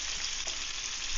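Beef chorizo and tomatoes frying in a pan give a dense, steady sizzle that crackles evenly throughout, close and loud with no talking.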